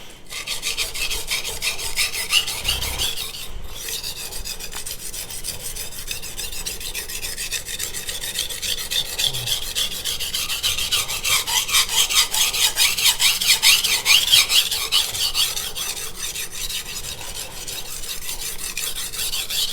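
A steady, gritty scraping of a Yoshikazu Ikeda honyaki 210mm gyuto in White #2 steel stroked back and forth across a 220 grit whetstone, close and continuous with a slightly high-pitched rasp.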